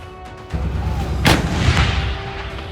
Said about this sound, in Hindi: अब देखिए थल सेना के तोपखाने में शामिल हुए सबसे नए मेहमान की ताकत। यह है K9 वज्र, जैसा नाम वैसा ही काम।